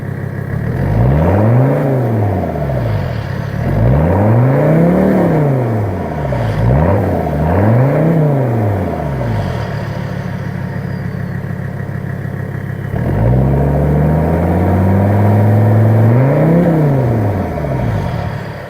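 A Mercedes-Benz 300TD diesel engine with a straight pipe exhaust revs repeatedly in loud, rising and falling bursts, settles to a steady idle, then climbs into one longer rev, heard close up without any talk.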